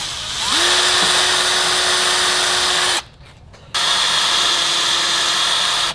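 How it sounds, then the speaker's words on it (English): Cordless power drill boring a small screw hole beside a garage door frame for a Genie universal keypad: a loud, steady high whine runs for about two and a half seconds, stops briefly, then resumes at a slightly lower, sustained pitch. "we're gonna just drill a little hole just below this one"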